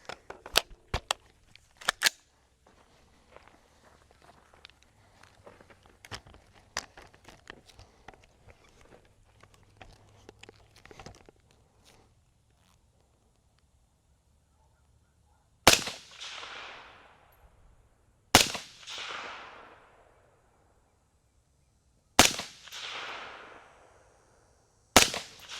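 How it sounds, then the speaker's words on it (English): A rifle fitted with a Monstrum 1-6 LPVO scope is fired at steel and paper targets outdoors. After a stretch of soft handling clicks, four loud, sharp shots ring out, each trailing a fading echo. "we'll throw this gun around a little bit and then shoot again"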